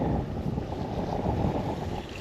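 Strong wind buffets the microphone with a continuous low roar and gusty rumble, steady throughout, with no voices, while fishing on the Dnipro river.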